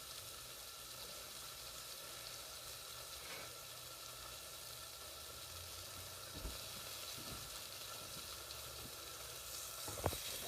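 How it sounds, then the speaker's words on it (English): A burger patty fries in melted butter in a pan, giving a steady close sizzle across the whole span, with a few faint knocks and one sharper clink near the end. "That burger's gonna cook up and all that buttery love."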